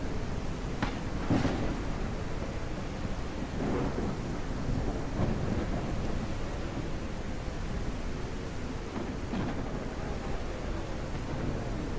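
Thunderstorm weather in the survival video game Surroundead: steady heavy rain wash with several rumbling thunder cracks, loud and continuous throughout.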